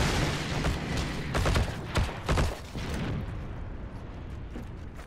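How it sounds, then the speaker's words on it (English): Booming tank main-gun blasts and explosions in the Heroes and Generals World War II game come in several heavy bursts during the first three seconds, then fade to a rumbling battlefield wash. "Just like firing its main gun at everything."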